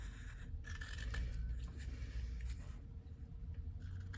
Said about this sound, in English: So simply using a sharp pair of scissors,